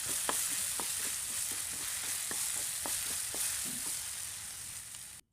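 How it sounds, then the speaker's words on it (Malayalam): Sliced plantain bananas sautéing in melted ghee in a non-stick pan give a steady, close sizzle, with scattered soft clicks and scrapes of stirring throughout and no talk. "അരിഞ്ഞു വെച്ചിട്ടുള്ള നേന്ത്രപ്പഴം ചേർത്തിട്ട് നന്നായിട്ടൊന്ന് വഴറ്റിയെടുക്കണം"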